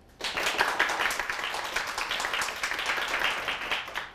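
Audience applause welcoming a speaker at a lecture show, starting abruptly and continuing as a steady, bright patter of many hands at moderate loudness before easing near the end.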